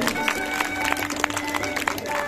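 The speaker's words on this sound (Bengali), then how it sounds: "একটু জোরে হাততালি হোক সবাই মিলে।" A crowd claps at a Ram Navami community gathering, a brisk, fairly close ripple of applause with sharp individual claps standing out over a low murmur.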